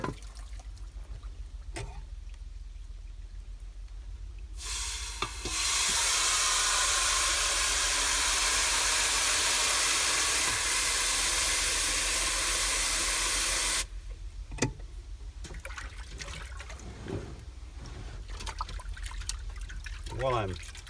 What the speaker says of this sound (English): While I'm rinsing this fish again